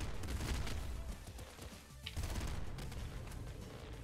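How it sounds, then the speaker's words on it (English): Explosive assault rifle in the video game Nuclear Throne firing steadily, with dense rapid shots and blasts running loud and nearly continuous through the whole stretch, briefly thinning once before resuming. "use the explosive assault rifle here against regular enemies"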